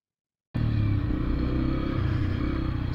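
A motorcycle rumbles along urban trails, its engine bursting in after half a second of silence and then holding a loud, steady, close drone with faint rattle.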